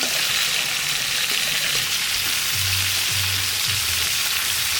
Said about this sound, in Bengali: মাছটা একটু হালকাভাবে বাজে নিছি এখানে